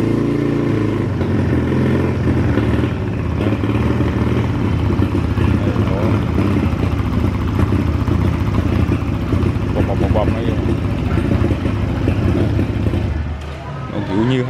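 A used Bajaj Avenger 220cc motorcycle engine runs steadily and loudly throughout, a constant low rumble with someone talking over it.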